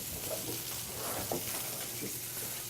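Shallots frying in a pan give off a soft, steady sizzle with a few light stirring scrapes, quiet and close.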